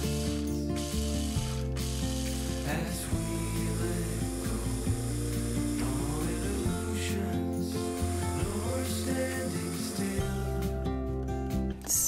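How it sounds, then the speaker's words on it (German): A kitchen grinder runs steadily as it finely mills shelled, peeled, unsalted green pistachios, a continuous dense whirring and grinding with rattling, gear-like texture that lasts throughout without pause. "30 Gramm wirklich schön grüne, gehäutete und ungesalzene Pistazien fein mahlen"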